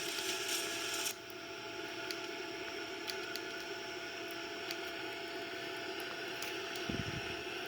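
Boeing 787 jet engines roar steadily during takeoff rotation, heard from inside the cockpit as a constant broadband rush that shifts slightly early on, with a brief low thump near the end and no talk.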